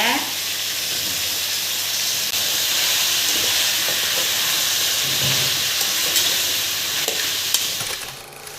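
Onions, tomatoes and vegetables sautéing in oil for mutton curry with vegetables, a loud, continuous close sizzle and hiss that fades at the end.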